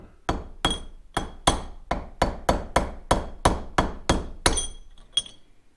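A hammer knocks a bearing race on a Väderstad harrow about a dozen times in a steady rhythm, each sharp ringing metal tap close and distinct.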